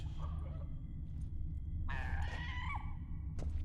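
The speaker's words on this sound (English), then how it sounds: "Probably not that harpy screeching up there," A harpy screeches from somewhere up above in The Witcher, a shrill, wavering cry that rises over steady low game ambience and then fades, with another brief cry near the end.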